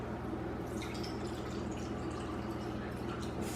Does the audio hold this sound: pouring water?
yes